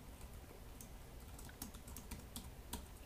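Soft, irregular keystroke clicks come from someone typing on a computer keyboard while writing game script code. The sound is close but faint, with no voice.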